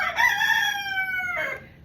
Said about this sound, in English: What my roosters are beginning to do right now